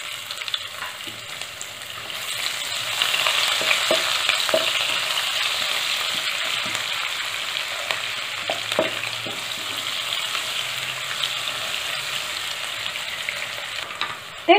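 Thinly sliced long onions sautéing in hot oil with cumin and a pinch of asafoetida for a Gujarati kankoda curry, a steady loud sizzle throughout with scattered small pops and faint stirring ticks.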